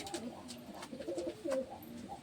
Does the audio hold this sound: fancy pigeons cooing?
yes